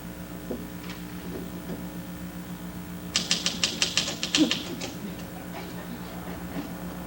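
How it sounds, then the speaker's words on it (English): A run of a dozen or so quick, crisp typewriter key strikes clacks briefly in the middle of a quiet room with a low steady hum, then stops. "Maybe if I just start typing this, something will come out."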